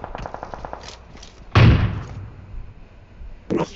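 A loud sniper gunshot booms out in a competitive first-person shooter match, a single sharp blast with a short tail, followed by a smaller burst near the end, over faint rhythmic game noises.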